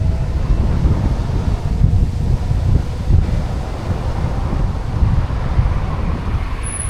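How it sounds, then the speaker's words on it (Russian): Strong wind buffeting a microphone outdoors near a construction site in Bykhov: a continuous loud, rough roar with heavy low-end rumble and gust swells, steady for the whole stretch with no talk. "такой ветер, что я думаю, кепку мою может унести"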